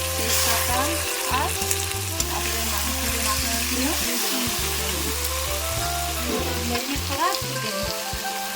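Chicken pieces fry loudly in a pan with garlic, a dense continuous sizzle close up, with stirring scrapes and a steady low hum underneath.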